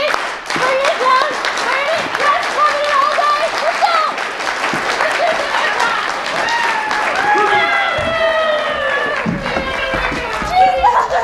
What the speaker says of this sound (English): can I have a slow clap for the rest of my performers?